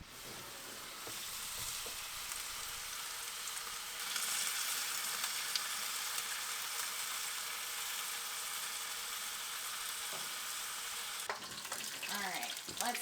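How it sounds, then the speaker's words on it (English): Steady, close sizzling and crackling of beef bones roasting in fat in an oven, continuous throughout with a brief clatter near the end. "Those bones are sizzling."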